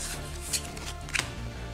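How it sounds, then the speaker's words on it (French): Playing cards being gathered up on a table during the board game Tiny Epic Mechs, a couple of soft brief slides and taps, quiet and close. "Et puis on reprend nos cartes."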